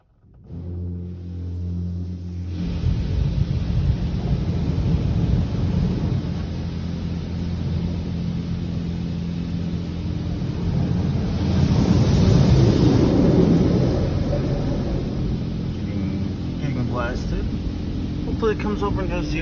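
A touchless car wash at a Citgo station sprays soap over a car, a loud continuous rushing hiss heard from inside that swells toward the middle and keeps going.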